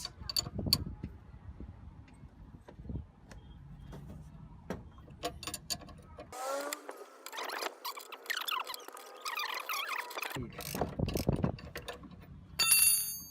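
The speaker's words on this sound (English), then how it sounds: "I use a 19mm spanner to loosen the nut on the other side" A 19mm spanner works the stabiliser link nut on a VW Jetta MK4, giving quiet, scattered metallic clicks and ratcheting ticks, with a brief clunk near the end.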